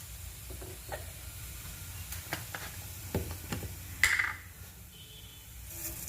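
Cumin seeds go into hot oil for a tempering, giving a faint sizzle with a few light clicks and scrapes from the pan and spoon, quiet and without talk.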